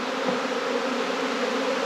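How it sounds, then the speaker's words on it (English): A honey bee swarm buzzing loudly and steadily as the bees rise into the air during a hive capture. The dense drone stays constant and close, with no talk over it. "A lot of bees will start going up into the air"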